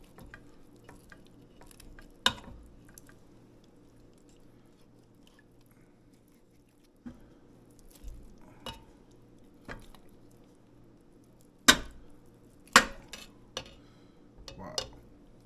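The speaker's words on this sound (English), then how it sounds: "I'm going to have to actually cut this one a little." Knife work on a ham bone, slicing meat away in quiet scrapes and squishy cuts, broken by sharp knocks against the board or bowl scattered through a mostly hushed stretch.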